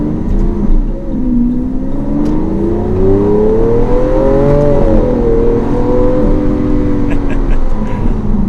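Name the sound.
Lamborghini Aventador LP700-4 V12 accelerating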